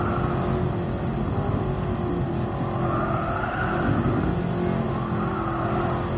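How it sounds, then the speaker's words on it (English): A Black Series car driven at a brisk pace around the Nürburgring, its engine a loud, steady roar with shifting pitch as it accelerates, heard from close by throughout with no talk over it. "This car is really comfortable to go at a brisk pace, and I'm not fully stabbing it to get really fast around the track."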